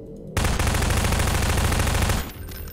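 Rapid automatic gunfire from a weapon in Half-Life 2 Episode 2, a loud continuous burst lasting about two seconds with no talk over it.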